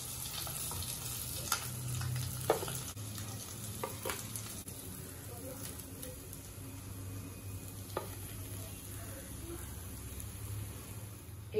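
Phalui fish fry in oil in a pan with a steady close sizzle as they are lifted out, with a few faint utensil clicks.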